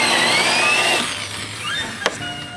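Power drill boring a countersink hole in a wood panel, a loud whirring drill that winds down, followed by a brief sharp knock near the end.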